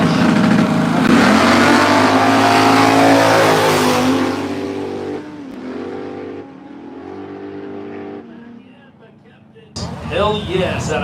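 Drag racing at a no-prep event, a 540 big-block Cutlass and a Dodge Dakota launching, loud roaring engines rising and holding before fading, with an announcer talking over them and a crowd cheering at the end.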